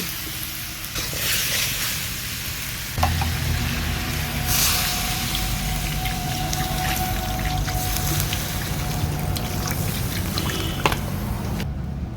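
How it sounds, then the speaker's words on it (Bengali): Water goes into chicken and winter vegetables frying for a stew, setting off a loud, close, continuous hiss and sizzle that lasts the whole stretch without any talking. "এবার এতে আমি দিয়ে দেবো জল"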